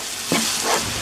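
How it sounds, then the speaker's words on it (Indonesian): Onions sautéing in a pan for creamy mac and cheese give a soft, even sizzle, close by, with one brief louder stir or shuffle partway through and no talking. "Kita tumis lagi sampai wangi dan berubah jadi transparan gitu ya."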